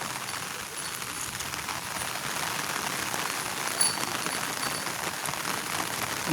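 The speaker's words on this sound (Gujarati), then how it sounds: "બે કલાકથી વરસાદ વરસી રહ્યો છે" Steady rain hisses softly and evenly, a continuous wash of patter with no voices.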